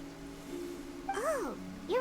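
A cat meows in Genshin Impact, set in rainy Fontaine: two rising-and-falling cries, the second cut short, heard close over a steady background hum.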